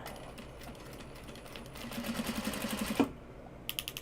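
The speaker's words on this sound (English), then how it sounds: "and then the strap connector gets sewn on the other side" A sewing machine stitches a strap connector onto fabric, with a rapid run of close, rhythmic mechanical clicks building near the middle, then a brief pause and a short final burst of stitches.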